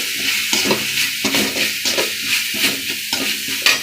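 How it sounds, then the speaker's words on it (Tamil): Onion, ginger-garlic paste and green chilli sauté in a pan for masala paneer parotta, giving a loud, close, continuous sizzle broken by regular scraping stirs. "வெங்காயம் வந்து இந்த இஞ்சி பூண்டு பேஸ்ட்டு கூட சேர்ந்து நல்லா பொன்னிறமாகிற வரையும் நம்ம வந்து இதை வதக்கிக்கலாம்."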